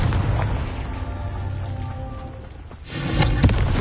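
Confringo spell going off in the Hogwarts Legacy video game, a dull rumbling boom that swells, dips, then surges into a louder crackling blast near the end.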